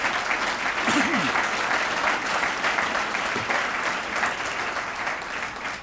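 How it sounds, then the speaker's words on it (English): A room full of people at a veterans' cheer event gives a steady round of applause for military families, dense clapping continuing throughout with a brief voice or cheer rising faintly within it. "I'd like another round of applause here for the families that have sacrificed"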